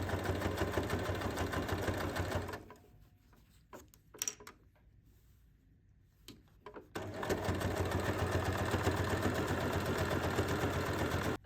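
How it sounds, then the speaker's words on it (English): A sewing machine stitches a fanny pack seam in two loud, steady runs with a quieter pause between them, marked by a few clicks and handling noises. "After you're done, sew all the way except for that 10 centimeter opening."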